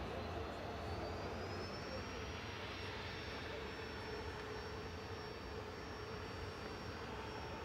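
Singapore Airlines airliner at Manchester Airport, a faint, steady broadband jet roar with a thin high whine running through it, heard from a distance without voices.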